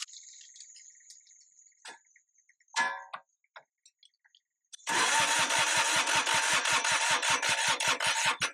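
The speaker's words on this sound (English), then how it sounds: "I hear the pump moving now." A fuel pump on a long-idle Kubota G5200 tractor, with faint high whining and scattered clicks before it starts up as a loud, steady, rapidly pulsing ticking drone that continues to the end.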